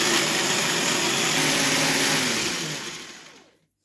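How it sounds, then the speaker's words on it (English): A hand blender whirs loudly as it blends curry paste made with salt and sunflower oil, running steadily before winding down and cutting off near the end. "Pop my whizzer, my hand blender on top,"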